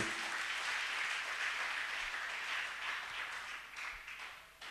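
A church congregation applauds and acclaims the Lord, a broad, sustained wash of many hands clapping, steady and fairly distant, slowly fading toward the end.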